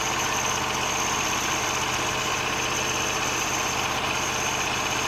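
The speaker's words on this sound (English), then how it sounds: "it is idling mind you right now" A Briggs and Stratton 20 hp V-twin engine idles continuously at close range, a steady mechanical rumble with constant vibration and no pauses.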